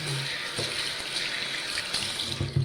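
Tap water runs steadily into a sink while hands are rinsed, a continuous broadband splashing hiss with a few soft knocks, close and fairly quiet, with no voices.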